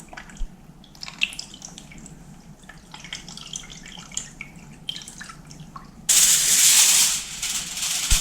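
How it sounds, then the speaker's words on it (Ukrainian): Tomato paste diluted in water pours steadily over stuffed peppers for a couple of seconds with a bright splashing hiss, following quieter kitchen clatter and small knocks. "і заливаю наші перці."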